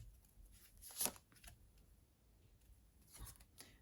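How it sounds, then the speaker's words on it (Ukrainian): Soft papery rustles and flicks of cards being handled and drawn, with one sharper snap near the start, quiet and close, no speech. "Зараз я три карти витягну"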